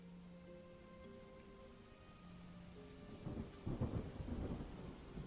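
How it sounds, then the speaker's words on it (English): A thunderstorm sound effect of steady rain with a low rumble of thunder swelling in the latter half, heard beneath sustained low musical tones. Fairly quiet and ambient, with no voices. "a flash of lightning cracks down, and rain starts. You hear thunder start to erupt"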